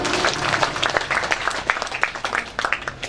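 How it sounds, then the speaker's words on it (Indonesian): An audience at a Betawi cultural workers' gathering gives a round of applause, with dense, fairly loud clapping that continues steadily for a few seconds. "Tepuk tangan dulu untuk kita semua."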